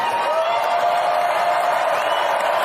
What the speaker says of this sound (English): The crowd is cheering up.